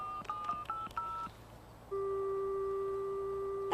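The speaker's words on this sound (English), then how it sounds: "I told my sister Edie I'd phone her when the tree was planted." Telephone keypad dialing tones: a quick run of about six short beeps, then a steady held ringback or line tone, clear and alone with no talking.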